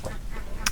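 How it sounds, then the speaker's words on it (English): Ducks quack outside a window, about five of them walking past, giving a few short, close nasal calls in quick succession with no one talking. "I don't know if you can hear the ducks quacking in the background right now"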